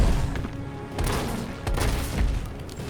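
A shotgun firing flame rounds in Resident Evil 3 Remake, a few heavy booming shots roughly half a second to a second apart, each followed by a rumbling tail, with no talking.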